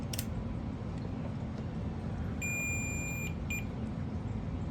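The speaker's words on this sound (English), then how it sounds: "You can hear it beep, and that means there's continuity." A continuity tester beeps twice while testing an automatic litter box, high and steady, over a low background hum, the second tone shorter than the first.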